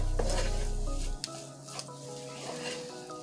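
Vegan chili mixture stirred in a hot pan, sizzling with a spoon scraping and clattering against the pan, a low frying hiss at first, then a few distinct stirring knocks, close and moderately quiet.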